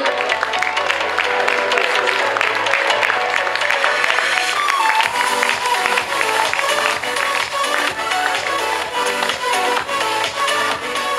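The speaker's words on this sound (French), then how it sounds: "Allez, on peut l'applaudir." An audience claps for a candidate at a lingerie pageant show while music plays loudly over the applause, the clapping blending into a busy, continuous backdrop.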